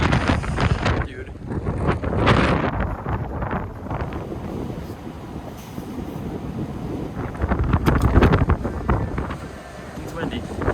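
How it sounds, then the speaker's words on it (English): Strong wind at about 25 miles per hour buffets the microphone in loud, gusty rumbles that swell and ease throughout, with no clear voices. "right now the wind is blowing 25 miles an hour, which is pretty speedy"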